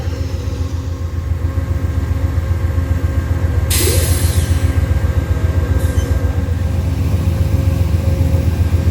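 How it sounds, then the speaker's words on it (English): A train rolls very slowly along the tracks, a loud, steady low rumble with rhythmic wheel clatter throughout, a brief hissing burst partway through, and no one talking. "There's the train way down there, moving very, very slow."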